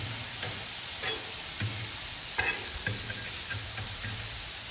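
Frozen peas and carrots sizzle steadily on a Blackstone griddle, with a continuous hiss and occasional scraping taps of a spatula stirring them. It is close and even throughout, with no talk.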